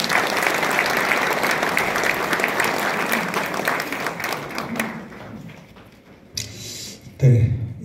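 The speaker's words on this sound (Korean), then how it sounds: "힘찬 박수로 환영해 주시기 바랍니다" An audience at a city hall general meeting claps loudly and steadily to welcome the Incheon mayor, the applause thinning and fading out after about five seconds, followed by a few thumps and handling noises.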